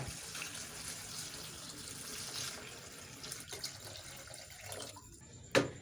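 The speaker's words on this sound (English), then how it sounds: "Add 1 liter water." One liter of water pours into a pot of Indian-style crab soup, a steady, close splashing stream that fades before a brief knock near the end, with no talk.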